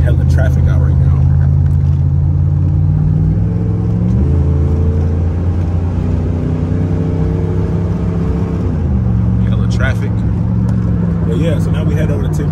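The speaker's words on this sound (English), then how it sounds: "It's hella traffic out right now." Heavy street traffic with a continuous low engine rumble that swells and revs as vehicles pass, loud and close throughout.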